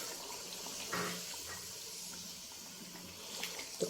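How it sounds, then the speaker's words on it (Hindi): Tamarind water poured into chicken biryani masala in a home kitchen, a steady soft liquid splash and trickle running throughout, fairly faint and close. "तो ये है इमली का पानी, वो भी इसी टाइम पे डाल देते हैं।"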